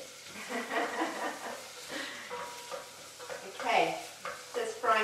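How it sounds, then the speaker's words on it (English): Chicken and rice for a chicken tagine with preserved lemon and olives fry and are stirred in a pan, a steady close sizzle with scraping spoon movements and brief clattering. "just frying that up"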